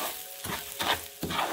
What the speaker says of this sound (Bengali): খুব ভালো করে প্রথমে একটু ভেজে নেব।